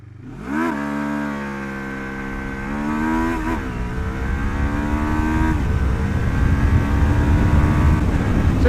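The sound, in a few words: Lexmoto LXR380 motorcycle accelerating 0-60 mph with clutchless shifting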